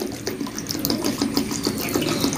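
Cut potatoes being washed under a running kitchen tap, a steady close splashing stream of water with small bursts as the pieces are rinsed, no voices.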